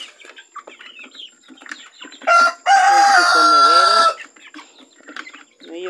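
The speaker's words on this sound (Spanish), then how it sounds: "dándole de comer a mis pollitos" Chickens and a rooster at a grandmother's farm, being fed early in the morning: one loud, drawn-out crow and a short call ring out over steady clucking and chatter from the flock.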